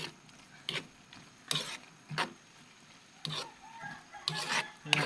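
Ginisang kamatis, tomatoes sautéed with oyster sauce and soy sauce, is stirred in a pan, giving repeated bursts of scraping and sizzling at an uneven rhythm over a steady low frying hiss, close and alone.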